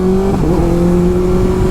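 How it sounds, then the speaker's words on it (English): Motorcycle engine pulling hard as the rider quick-shifts up through the gears without the clutch, loud and close, with brief dips in pitch at each shift and the tone climbing again. "I'm going up in the gears without touching the clutch, and that's called quick shifting"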